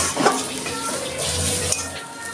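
Cumin seeds and turmeric sizzle steadily in hot oil for a Bengali onion masoor dal, a continuous crackling fry with a few light stirring clinks, close and fairly loud with no talking.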